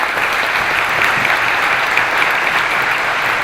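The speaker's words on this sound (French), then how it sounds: "je souhaite qu'on les applaudisse et qu'on les félicite" A congress audience gives a loud, dense, continuous round of applause, a steady roar of many hands with no individual claps standing out.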